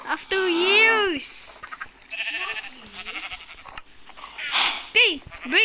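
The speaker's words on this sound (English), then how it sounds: "Oh, a black sheep!" A black sheep bleats loudly in Minecraft, one long wavering call followed by shorter ones, amid game effects and speech-like sounds.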